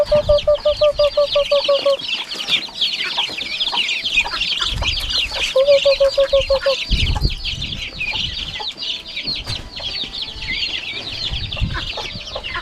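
Several chickens cluck and squawk close by in busy, overlapping bursts, with a few sharp high calls and rustling throughout.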